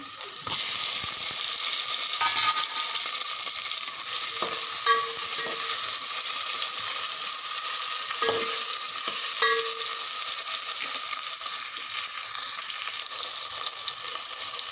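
Tomatoes hit a pan of browned onions and fry in a steady, close sizzle, with a few clinks and scrapes of a spoon stirring the mix in a home kitchen.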